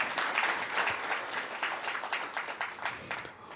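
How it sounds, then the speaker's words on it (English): An audience at a census report launch event gives a round of applause: dense, steady clapping from many hands, moderately loud, which thins out toward the end. "I think it's just fair for us to also give him another round of applause"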